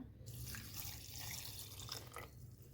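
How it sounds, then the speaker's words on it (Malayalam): Water pours into a container of orange pieces before blending into juice, a continuous soft splashing stream heard close but faint, with no talking. "ഇതെന്നാൽ ഈ വെള്ളം ഇതിലേക്ക് ഒഴിക്കാം"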